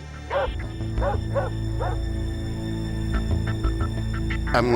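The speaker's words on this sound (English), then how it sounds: "I heard even the KGB dogs barking." Several dogs bark and yip in short repeated bursts over a steady low rumble, some barks sharper and closer, others fainter.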